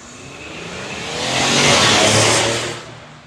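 A 2025 Ford Explorer pulls away with the engine revving up hard, the roar swelling to a loud peak and easing off, heard close with no talking.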